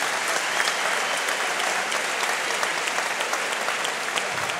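Steady, dense applause from a large audience at a fight event, loud and continuous for the whole stretch, with no voices standing out.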